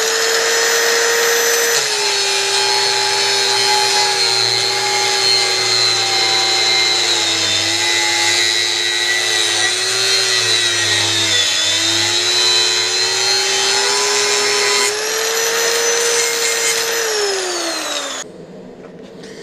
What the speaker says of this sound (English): We can do the first one with a standard cutoff wheel